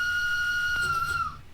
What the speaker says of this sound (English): I love the whistle as well. It's a little bit distorted,